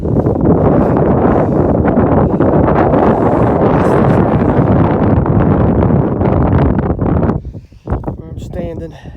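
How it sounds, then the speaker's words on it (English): Steady, loud wind gusting across an exposed rocky summit in the Bigelow Mountains on the Appalachian Trail in July, a constant roar buffeting the microphone that eases near the end. "it's kind of windy"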